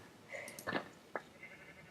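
Sheep bleating in the video game Minecraft, a couple of faint, short nasal bleats heard alone against quiet background hiss.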